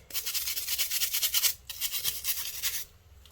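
A brush scrubs salon tools during disinfection in brisk, close back-and-forth strokes, forming two steady bursts separated by a short pause, then trailing off.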